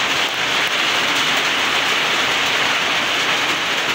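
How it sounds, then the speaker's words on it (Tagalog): Steady, dense rain hiss, loud and continuous throughout, with no voices. "Umuulan na may kunting araw"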